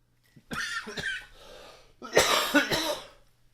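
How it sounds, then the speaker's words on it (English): Two bursts of harsh coughing, close and fairly loud, the second pair stronger than the first, with no talking. "don't let me cough on you"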